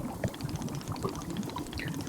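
Steaming hot water from a tea machine in the video game Wanderstop pours in a short, continuous liquid gurgle with bright splashy detail, close and moderately loud throughout.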